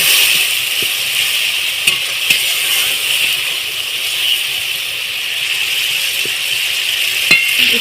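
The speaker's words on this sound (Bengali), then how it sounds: "এর মধ্যে আমি অল্প সামান্য জল দেব দিয়ে আর একবার আমি মশলাটাকে ভালোভাবে কুচিয়ে নেব" Fried masala of onion and potato being stirred in a pan after a little water is added, giving a loud continuous hissing sizzle with occasional faint clicks from the utensil, close up and without talk.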